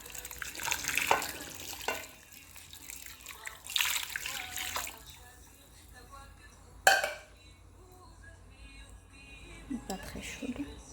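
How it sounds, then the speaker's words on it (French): Lukewarm water poured into a cooking pot while preparing fish wrapped in packets, a few splashing bursts with light clatter between them, moderately loud, a voice speaking at times. "Donc je vais verser l'eau."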